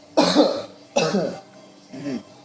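Three separate coughs, the first two strong and close, the last one softer, with short pauses between them.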